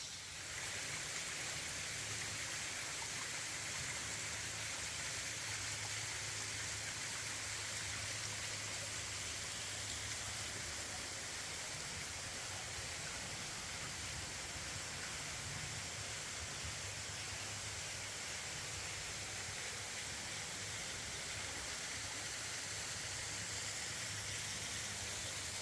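Eagle Falls in McCreary County, Kentucky pours as a steady, even broadband rush of falling water, soft and unbroken throughout, heard alone without voices.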